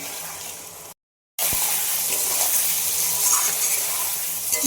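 Chopped mango frying with spice paste gives a steady, bright sizzle that drops out for a moment, then returns loud and hissing, with faint scraping of stirring.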